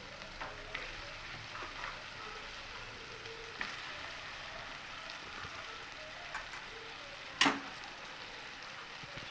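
Mutton pieces frying in spiced oil for a thin mutton and potato curry, a low steady sizzle with soft occasional stirring scrapes and one sharp clink near the end.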